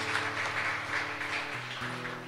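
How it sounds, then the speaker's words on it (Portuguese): A church congregation gives applause during a worship service, a busy wash of clapping mixed with sustained tones, steady across the short span. "Uma salva de palmas ao Senhor, em nome de Jesus."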